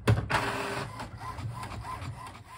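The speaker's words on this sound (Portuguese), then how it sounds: "Impressora imprimindo folha de apresentação das organizações responsáveis pelo projeto." Printer printing a sheet of paper, a mechanical whirring feed with a sharp start, then steady rolling and rhythmic pulses of the print head, close and moderately loud.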